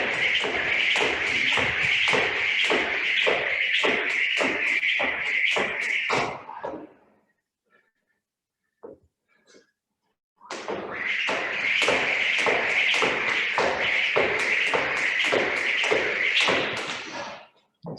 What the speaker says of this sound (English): 30 skips. Round number 4 of our skipping.